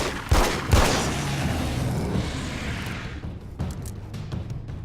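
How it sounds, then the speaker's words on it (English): Gunfire in the video game Alan Wake's American Nightmare: a couple of sharp, loud shots close together at the start, a booming reverberant tail, then another lighter report later. "See, Alan Wake still knows how to shoot."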